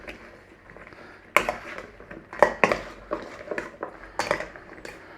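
Green beans and mushrooms being tossed in a bowl, with irregular clinks and scrapes of a utensil against the bowl and soft rustling of the vegetables, close and moderately loud.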